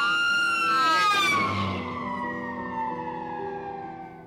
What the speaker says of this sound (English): It's similar to the way a siren distorts as an ambulance races past us.